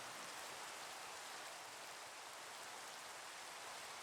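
Steady, dense rain weather from Minecraft Java Edition 1.21.4, a close, even hiss of falling drops that holds without pause for about four seconds with no voices.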